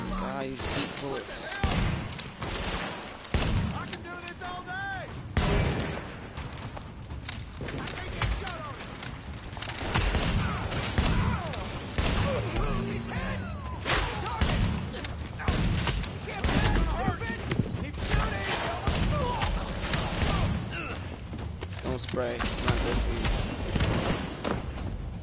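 Scattered gunfire in The Division shooter game, bursts and single shots spread through a long stretch of busy combat noise, with someone talking excitedly over much of it.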